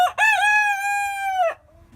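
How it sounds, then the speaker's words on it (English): A young rooster gives one clear, close crow that holds steady for over a second, then stops abruptly, leaving near silence. "the young rooster was beginning to crow before we even introduced it to the rest of the brood"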